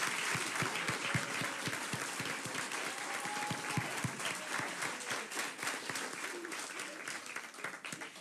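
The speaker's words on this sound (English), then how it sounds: "So would all committee members please stand for a round of applause?" An audience at a city Women's History Month celebration applauds committee members, with sustained, even clapping at moderate distance and faint voices mixed in.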